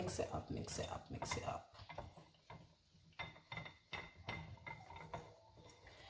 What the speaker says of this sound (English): and then we whisk